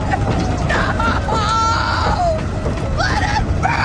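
A woman's high, wavering screams from a horror film, loud and sustained over roughly four seconds, with rising and falling shrieks over a dense, noisy background.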